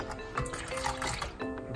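Water poured from a cup into cake mix in a bowl, a steady liquid filling sound lasting under two seconds, close and moderately loud, with faint background noise.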